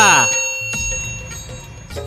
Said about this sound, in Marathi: चॅनलला सबस्क्राईब करा आणि घंटी नक्की वाजवा